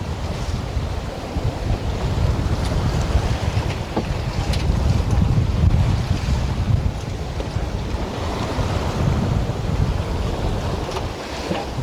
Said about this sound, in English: I'd say it's probably blowing 15 out here. 12 to 15. Nice breeze.